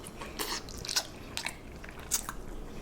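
Quail eggs bitten and chewed at close range during a mukbang, a few soft crunchy bites with wet squishy chewing, no talking.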